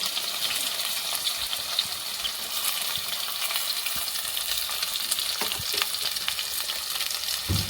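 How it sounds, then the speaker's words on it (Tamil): Steady sizzling of small onions sautéing in a hot pan for Tamil urundai kuzhambu, a dense crackle throughout with occasional louder pops and stirring. "சின்ன வெங்காயம் நல்லா வதங்கட்டும்."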